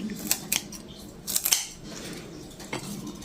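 A few crisp scissor snips close by, cutting broccoli inside a metal pot, with short pauses between cuts.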